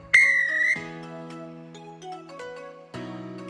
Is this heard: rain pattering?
no